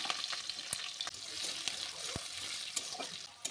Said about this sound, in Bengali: আলু ভাজার তেলের মধ্যে একে একে 5 ফোড়ন, চেরা কাঁচা লঙ্কা, একটা পেঁয়াজ কুচি দিয়ে পেঁয়াজটাকে হালকা ব্রাউন করে ভেজে নেব